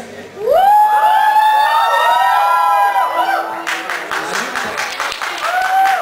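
Crowd clapping and cheering at a cosplay parade during a Baixada Games event, loud and close, with a sustained applause wash under whistling or cheering tones and an announcer's amplified voice mixed in.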